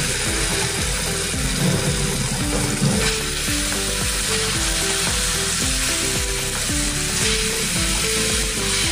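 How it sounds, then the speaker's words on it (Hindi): Batter drops into hot oil for frying festive Indian sweets, giving a loud, continuous close sizzle with dense crackling and bubbling that holds steady throughout, with no voices. "अभी जो अपना बैटर है वो थोड़ा थोड़ा ऐसे छोड़ देंगे इसमें।"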